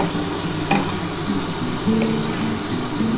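Spice masala stir-fries with capsicum in a pan for an egg curry, giving a steady, close sizzle broken by a couple of scraping stirs.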